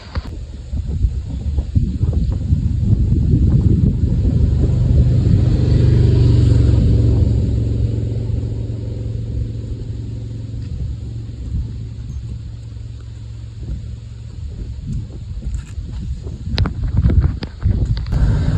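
A 28-year-old 1990s Lexus with a 2JZ engine driving along the Blue Ridge Parkway, a steady loud engine and road rumble with wind noise that swells and eases, then light clicks and knocks near the end.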